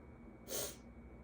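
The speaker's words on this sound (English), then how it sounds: "I keep sniffling." A single short sniffle, close and fairly loud, rising and fading within about a third of a second over a quiet background.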